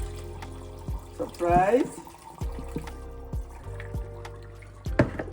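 Water draining off soaked beans at a kitchen sink, a short splashing pour with drips before and after, while a voice speaks briefly.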